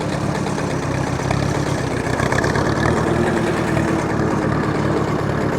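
A 1953 Allis Chalmers WD45 tractor engine runs steadily with the hand clutch engaged, a close, loud, continuous mechanical drone with rough low-end chugging throughout and no talk.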